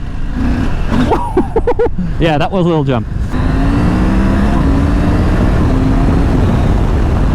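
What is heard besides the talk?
KTM 890 Adventure R motorcycle engine accelerating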